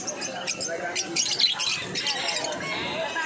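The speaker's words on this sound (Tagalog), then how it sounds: "Tulad din ng mga ibon na ito." Birds for sale at the Bocaue pet market in Bulacan squawk and chirp continuously amid a busy crowd babble, with sharp high calls cutting through the steady market din.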